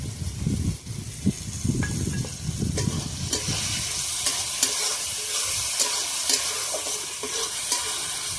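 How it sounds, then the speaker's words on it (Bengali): Spices, onion and garlic frying lightly in a pan for a Bengali fish recipe, with steady close sizzling and stirring scrapes, louder bursts early on settling into a continuous hiss. "হালকা করে ভেজে দিচ্ছি।"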